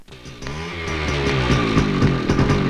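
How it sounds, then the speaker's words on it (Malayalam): A motorcycle engine runs close by with a steady, buzzing drone that revs up slightly and holds loud throughout, without talk over it. "എടടാ ബൈക്ക്."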